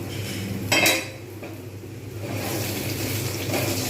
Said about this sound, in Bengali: ঢাকনাটা খুলে দেখব